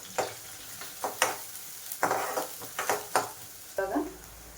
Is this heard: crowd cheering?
no